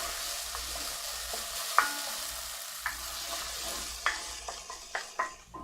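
A spoon stirs basil, black pepper, garlic and oregano into a barley, sausage and kale stew in a pot, giving a few soft scraping strokes and light knocks over a faint sizzle, with no talking.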